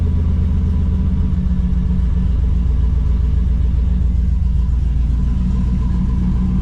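A car engine idles with a loud, steady low rumble, close and even throughout with no revving and no voices.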